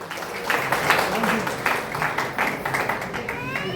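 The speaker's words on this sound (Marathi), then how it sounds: "कलाकारांना आम्ही ती देऊ, त्यासाठी एकदा जोरदार टाळ्या होऊन जाऊ देत।" An audience at a Brahmin community cultural festival in Sawantwadi, Sindhudurg claps for the performers, producing irregular bursts of applause of moderate loudness that rise and fade, with a voice sounding over part of it.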